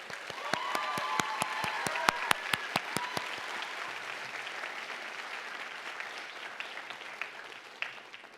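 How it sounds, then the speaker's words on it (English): A convocation audience in a college hall gives a round of applause, with a run of sharp, evenly spaced close claps at first, then a dense, softer wash of many hands that tapers gradually. "Let's give them a round of applause as an expression of our gratitude"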